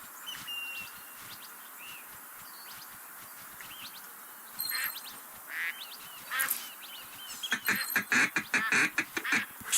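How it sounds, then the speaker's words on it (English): Ducks quacking and honking in the Duck Dynasty hunting game, with scattered calls at first, then a dense burst of rapid quacks near the end, moderately loud over a steady background hiss. "John Luke, let's hunt some ducks"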